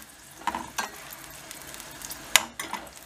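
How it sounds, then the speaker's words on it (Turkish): Water boils in a pot while Karadeniz-style Abaza pastry is being cooked, a close, steady bubbling sizzle broken by a few sharp clinks of a utensil against the pot. "Bu kaynadı şimdi."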